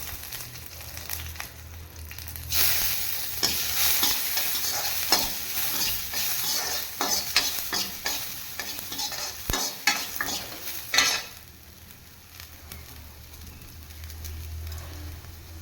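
Chillies and coriander roast in a hot pan while a spoon stirs them steadily, a continuous close sizzle with scraping strokes and metal clinks, loud for most of the stretch before quieting near the end.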